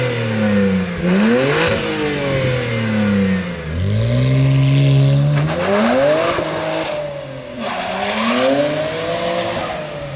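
A BMW 335i fitted with an aftermarket exhaust revs and accelerates repeatedly, loud raspy engine notes sweeping up and dropping back in three or four pulls, with tire squeal mixed in and no talking.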